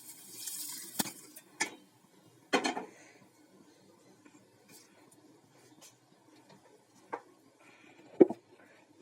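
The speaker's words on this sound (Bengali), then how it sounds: "এবার দিয়ে দিচ্ছি আমি মুগের ডালটা।" Washed rice and moong dal being tipped into a pot of hot water while cooking khichuri, heard as scattered clinks and knocks of a utensil against the pot with faint pouring and stirring, quiet between sparse hits.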